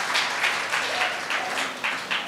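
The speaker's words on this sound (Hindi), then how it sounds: "कई लोग तो जो है पड़ोसी को देख करके ताली बजा रहे हैं" A crowd gathered for a Jain monk's sermon in Banswara, Rajasthan, claps in a continuous wash of applause that swells in repeated rhythmic waves.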